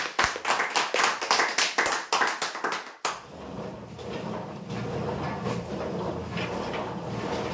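An audience at a prize draw bursts into brisk, uneven clapping that ends abruptly and gives way to a diffuse murmur of room noise.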